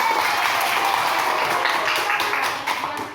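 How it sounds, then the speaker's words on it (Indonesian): A room full of people applauds a student group after their answer in a class session, a dense wash of clapping that holds steady and then begins to fade at the end. "kasih tepuk tangan kepada kelompok 2 yang menjawab"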